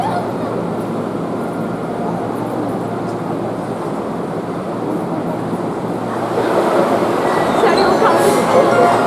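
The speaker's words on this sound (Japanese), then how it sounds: "まもなく3号線に電車が到着します" Hankyu Kyoto Line train pulling into a platform at a station; a continuous close rumble of wheels and motors that grows louder toward the end, with faint squeals.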